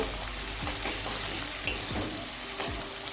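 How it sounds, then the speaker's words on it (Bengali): Chopped onions with salt and turmeric fry in a pan, a steady close sizzle broken by a few scraping stirs of a spatula. "এবার এই পেঁয়াজটাকে একটু ভেজে নেব"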